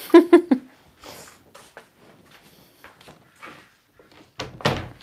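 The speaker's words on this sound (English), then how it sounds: "and then I close the door." Door closing indoors during an acrylic pour painting session: a few quick thuds at the start, then quiet with scattered small sounds, and a louder bump and rustle near the end.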